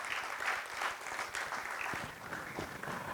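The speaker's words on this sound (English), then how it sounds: "Please welcome him with a huge round of applause" Audience applause at an award ceremony as a safety award recipient is welcomed, faint and somewhat distant clapping that goes on steadily for a few seconds.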